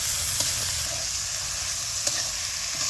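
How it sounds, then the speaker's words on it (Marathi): Ridge gourd stirred into hot spiced oil for a home-style Marathi dal dish, giving a steady frying sizzle with a few soft utensil scrapes and taps, close and continuous, no voices. "आता दोडका ह्याच्यात टाकायचा. त्याला असं चांगलं हलवून घ्यायचं."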